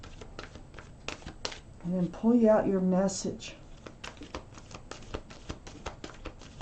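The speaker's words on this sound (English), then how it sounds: "I'm just going to shuffle them a few times and then cut them." Tarot cards are shuffled by hand in a series of crisp, quick riffles and taps spread across the moment, with someone speaking briefly in the middle.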